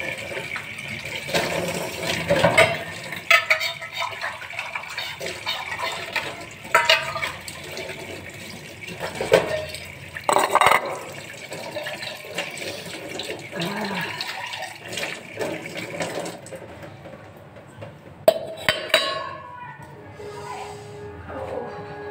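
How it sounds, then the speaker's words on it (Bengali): Running water splashes from a tap while dishes are scrubbed at a home sink, a steady gushing stream broken by clinks and knocks of pots and plates, with no talking. "আর বাসন মেজেই যাচ্ছি"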